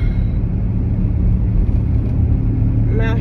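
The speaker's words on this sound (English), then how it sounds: "I'm out here driving on this solid ice." Car driving on a road of solid ice, a steady loud low engine and tyre rumble from inside the cabin, with a voice talking briefly near the end.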